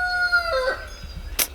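A rooster crows nearby among backyard chickens, a single drawn-out call that falls away. A few soft clucks and a brief sharp noise follow.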